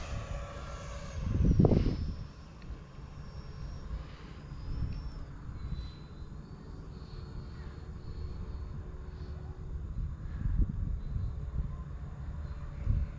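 An E-Flite F-16 Thunderbird 70mm electric ducted-fan RC jet flying outdoors on a windy day, a thin whining turbine hum passing and shifting in pitch, with a low rumble and wind buffeting on the microphone.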